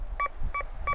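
A Golden Mask metal detector with a Spider coil gives short beeping tones over a pull tab, three quick double-pulsed signals close together in under a second.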